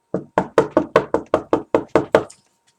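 Eleven firm, evenly spaced knocks rap on a front door in quick succession, close and loud, then stop, leaving silence.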